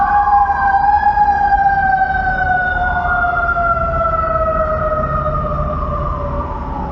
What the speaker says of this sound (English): And we'll wait for the sirens to stop.